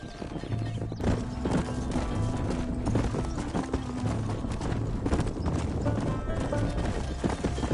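Horse hooves galloping in a Red Dead video game, a steady rapid clip-clop rhythm under a dense layer of game noise, with a brief whinny near the start.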